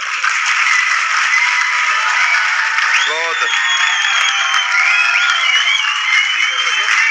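Sustained audience applause at a Punjabi conference, a dense, steady roar of clapping filling the whole stretch, with a brief voice breaking through partway.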